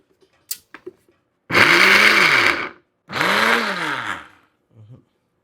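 A kitchen mixer grinder grinds cooked chicken for chicken chili powder in two loud bursts of about a second each, its motor whine rising then falling, separated by a brief pause, with small clicks and handling noises around them.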